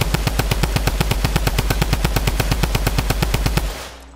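Rapid automatic gunfire in a video game playground match, a steady stream of loud, evenly spaced shots for nearly four seconds before cutting off abruptly.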